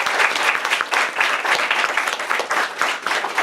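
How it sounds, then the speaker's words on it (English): An audience at a liberal arts and sciences symposium applauds two speakers with lively, continuous clapping, dense and energetic, fairly close and loud for the whole stretch. "Let's give both of them a round of applause."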